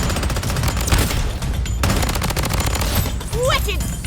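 Rapid bursts of gunfire from the Blood Strike shooter game, featuring an M700 rifle, crackle continuously and loudly throughout, with a voice speaking briefly over the shooting.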